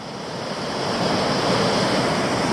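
Water rushes steadily through Boulder Falls in a rocky river gorge around a huge wedged boulder, a loud, continuous broadband roar that swells slightly and never breaks, with no voices.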